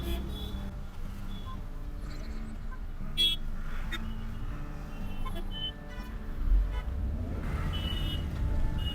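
Road traffic on a Pune street near Sasoon Hospital, a steady engine rumble of passing cars and trucks with short horn toots scattered throughout, at moderate distance, with occasional talk.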